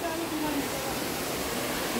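A monsoon waterfall at a Kolad picnic spot in the Konkan, forceful water rushing as a dense, steady broadband roar that fills the whole moment without pause.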